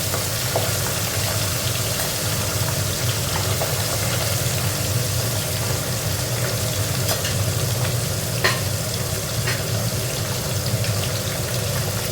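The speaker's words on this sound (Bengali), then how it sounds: "মাছটায় নুন হলুদ মাখিয়ে নিয়েছি ভেজে নেবো মাছটা" Pieces of tangra fish coated in salt and turmeric fry in a pan with a loud, steady sizzle that holds evenly throughout, punctuated by faint spatters and pops, with no voices.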